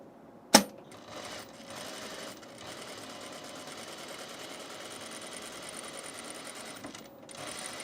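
A sewing machine runs steadily while stay stitching fabric for a Style Arc Ascot tunic, its needle chattering at an even pace after a sharp click at the start, with two brief pauses and no talking.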